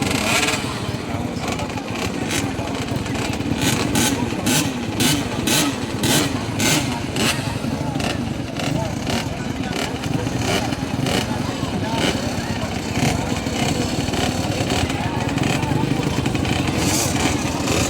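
A motorcycle engine runs loudly and close for a long stretch, chugging with a rhythmic pulsing beat while people talk over it.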